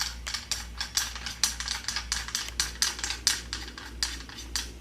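An SPR M4 flash hider is turned onto the barrel, its ratchet latch clicking over the gear in a quick, regular series of sharp metallic ticks, close and fairly quiet, with no talk.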